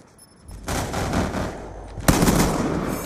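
Shotgun blasts in Call of Duty: Black Ops 2 gun game, two loud sharp reports about a second and a half apart, each trailing into a rumbling decay with no talk over them.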